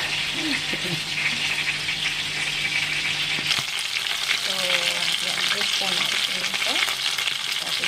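Garlic sizzles steadily in a hot pan in a home kitchen, a dense continuous frying hiss with occasional stirring scrapes, close and fairly loud throughout.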